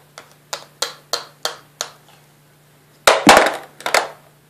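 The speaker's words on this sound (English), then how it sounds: "Clap, clap, clap." Sharp hand claps ring out alone in a quiet room: six evenly spaced claps, then a short pause and a louder, denser burst of several quick claps close to the listener.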